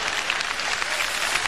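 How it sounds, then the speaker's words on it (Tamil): A concert audience at a Tamil song performance claps, giving a dense, steady wash of applause that holds at an even level throughout, with no voices standing out. "நீங்கள் கைத்தட்டி தான் ஆகணும், வேறு வழி கிடையாது."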